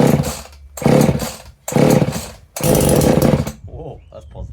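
A Husqvarna 50 Rancher chainsaw revs in three loud, close bursts with short gaps between them, then drops to a sputtering idle. Faint voices may be present.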